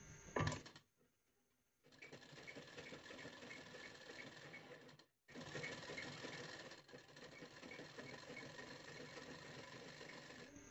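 An electric sewing machine stitches a folded fabric strip for a boat neck blouse, a close, steady mechanical whir that runs, stops briefly, then runs again.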